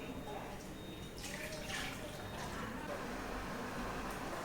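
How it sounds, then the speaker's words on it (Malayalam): Jaggery syrup poured into a large vessel makes a soft, continuous liquid trickle and splash, faint and steady, with a few brighter splashes midway. "എന്നിട്ട് ഈ ശർക്കര പാനി ഇതിലോട്ട് ഒഴിക്കുക."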